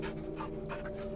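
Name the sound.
dog panting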